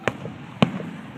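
Fireworks at a summer fireworks show pop twice, about half a second apart, sharp distant bangs over a low crowd murmur.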